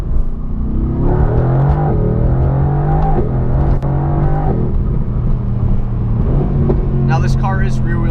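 A rear-wheel-drive Mercedes-AMG GT R Pro, a street-legal GT3-style car, drives with a loud, steady engine drone that rises and falls as it revs, while someone talks over it.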